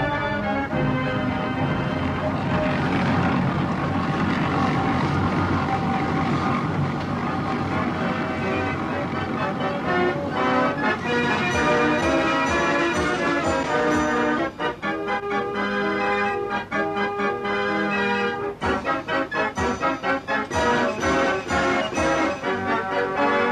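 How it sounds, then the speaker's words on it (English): Steam-driven fairground organ, its steam engine running a generator and pump that supply the air, playing a loud continuous tune with dense sustained chords and bright repeated notes, steady throughout with no talk. "It was the steam engine which drove the generator, which powered the pump, which produced the air,"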